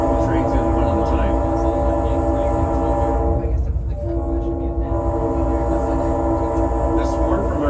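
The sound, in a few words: train horn sounded by the engineer before a tunnel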